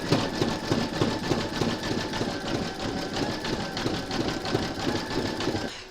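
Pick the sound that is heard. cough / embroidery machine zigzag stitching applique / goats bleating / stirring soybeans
embroidery machine zigzag stitching applique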